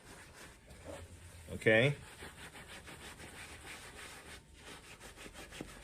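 A Kirby portable shampooer scrubs foam into carpet with a pad, making a close rhythmic rubbing and swishing that repeats steadily, interrupted by a short voice.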